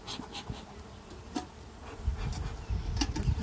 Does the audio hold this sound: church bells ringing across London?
no